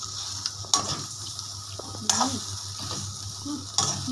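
A thick sausage grilling in a hot pan gives off a steady close sizzle, with a few sharp scrapes and clinks of a utensil breaking through the frying hiss.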